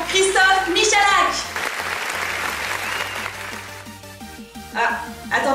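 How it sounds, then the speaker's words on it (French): An audience applauds loudly and continuously to welcome a guest, with a voice heard over the clapping. "Je vous prie de l'applaudir et de l'accueillir chaleureusement, Christophe Michalak."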